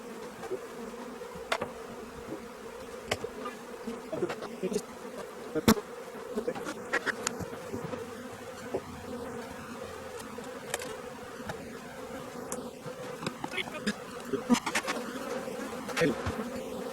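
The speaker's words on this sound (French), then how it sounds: "les abeilles sont dans la hausse" Honeybees buzz in and around the hive supers during a summer honey harvest, a steady, fairly quiet drone with occasional nearer individual bees passing close.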